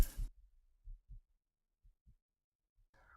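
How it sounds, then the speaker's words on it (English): Low, muffled heartbeat thumps come in paired beats, a few double pulses spaced across the quiet, dull and close, ending with a short burst of other noise. "My heart starts to beat fast."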